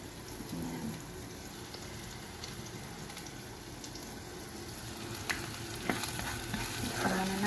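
Onions sizzle and brown in a pan for a white sauce pasta, a soft steady frying hiss with occasional stirring clicks and scrapes, fairly quiet and close.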